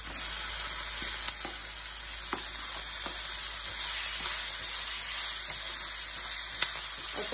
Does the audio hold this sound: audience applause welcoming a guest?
no